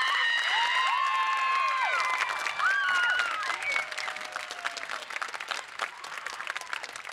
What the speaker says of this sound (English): Could I have the audience please applaud for this amazing class?